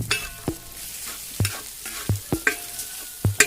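Chopped shallots and green chillies stir-fried in a pan, with a steady background sizzle broken by a regular series of sharp spatula scrapes and knocks against the pan, close and without talk.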